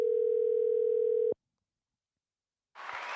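A steady telephone dial tone sounds alone for over a second, then cuts off into silence before a soft rush of noise begins.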